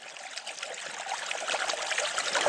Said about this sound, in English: Look at the water squirting out the